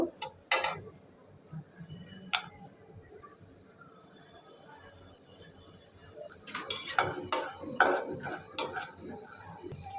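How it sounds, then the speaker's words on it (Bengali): Pumpkin seeds dry-roasting in a wok, with a spoon scraping and clinking against the metal in scattered bursts, quieter through the middle and busier, denser stirring toward the end; no talk. "এখন এগুলো আমি কড়াই দিয়ে দিয়ে ভেজে নেব"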